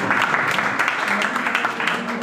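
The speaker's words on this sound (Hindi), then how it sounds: "तो तालियों की गड़गड़ाहट से इनका स्वागत करेंगे।" Loud, close audience applause welcoming a guest at a Lohri festival gathering, a steady dense roar of clapping with some voices mixed in, lasting a couple of seconds.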